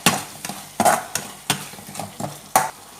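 Mushroom chili being stirred with a spoon in a pan after soy sauce goes in, giving about six sharp scraping strokes spaced irregularly over a soft sizzle, close up with no talking.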